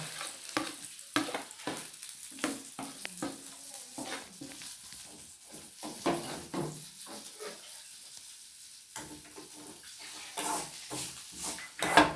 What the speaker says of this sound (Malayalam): ഇനി ഈ തേങ്ങയും വെളുത്തുള്ളി, ചുവന്നുള്ളി ഇതിലിട്ട് കൊടുക്കാം. വറുത്തെടുക്കട്ടെ കേട്ടോ.